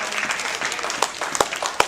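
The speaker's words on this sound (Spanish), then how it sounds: "¿Cuántos pueden dar fuerte aplauso, por favor?" A church congregation claps loudly together, a dense wash of applause with a few sharper hand claps standing out near the end.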